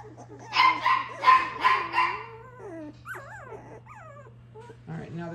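Puppies on the floor for the first time bark in a quick burst of yips, then whimper and whine in rising, wavering cries over a low steady hum, close and moderately loud.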